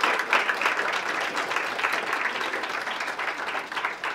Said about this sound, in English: give a round of applause for yourselves one more time